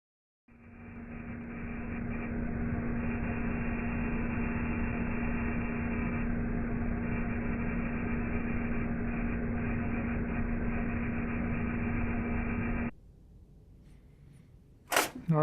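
A refurbished desktop computer powering up, its fans spinning up into a steady loud whir with a low hum, then cutting out abruptly and followed by a couple of sharp clicks.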